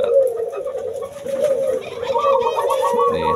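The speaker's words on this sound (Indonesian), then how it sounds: "Nih, ini ada burung tekukur ya." Spotted dove (tekukur) in a small cage gives steady, repeated cooing that runs nearly unbroken, close and fairly loud, with a few faint higher chirps from other birds in the background.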